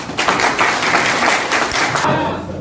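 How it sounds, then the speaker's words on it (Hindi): A seminar audience in a hall breaks into brief, loud applause, many hands clapping together in a thick burst before it cuts off. "एक बार तालियां बजा सकते हैं"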